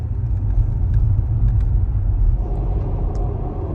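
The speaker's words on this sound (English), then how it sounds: "We're officially on the road with the trailer here in the Model X." A Tesla Model X towing a trailer cruises down the road, giving a steady low rumble of road and tire noise inside the car, continuous and fairly loud, with faint occasional clicks.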